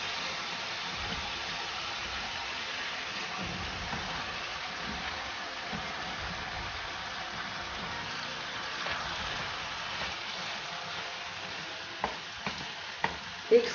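Tinda goes into a softened tomato masala in a pan: a soft, even sizzle carries on throughout, then a few light knocks and clatters of vegetables and spoon land near the end, with no talking.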